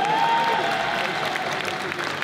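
A crowd at a Colmar competition event applauds the organizing team and athletes, steady dense clapping filling the space, with a brief whistle at the start.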